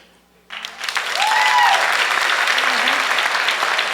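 A stand-up comedy audience breaks into loud, sustained applause after a brief quiet moment, with a few cheers rising over the clapping.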